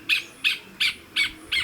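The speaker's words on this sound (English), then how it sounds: "So the birds come with their song and their flashes of color" A bird in a permaculture food forest calls five times in an even, evenly spaced rhythm, each note a bright, clear hoot-like chirp standing out near and distinct over a quiet background.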